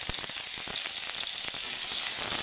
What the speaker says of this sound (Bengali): আদার যে একটা কাঁচা গন্ধ আছে ওটা চলে যাওয়া অবধি আমি একটু হালকা ভেজে নেব